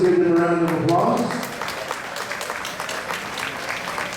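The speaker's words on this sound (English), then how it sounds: "Let's give them a round of applause." Audience applause at a 2014 picnic gathering, a burst of clapping right at the start that quickly thins into scattered claps and crowd murmur, with a voice talking over it.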